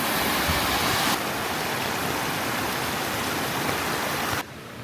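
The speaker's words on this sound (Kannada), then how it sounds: "ಕೋಟೆ ಒಳಗಿದ್ದ ನೀರು ಬರ್ತಾ ಇದೆ" Rainwater streams out from inside Kavaledurga Fort with a constant rushing hiss, loud and close, then drops abruptly to a quieter wash near the end. No one speaks.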